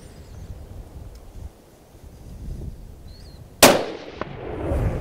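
A hunting rifle fires once at a sable antelope during a South African hunt, a sharp loud crack partway through against quiet outdoor wind and rustle, followed by a brief echoing tail.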